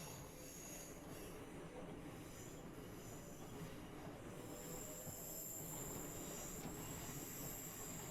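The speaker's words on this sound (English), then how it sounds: "Train coming in." Train simulator game audio of a train arriving on the East Coast Main Line near King's Cross: steady rolling rumble with high, sustained wheel squeal throughout, loud and continuous, no talking.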